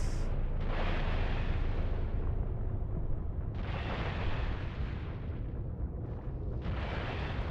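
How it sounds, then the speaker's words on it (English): Ship cannons firing in the space game Eve Online, a dense rumbling barrage of booms and bursts that swells in repeated waves over a continuous low roar, loud and without speech. "And open our cannons."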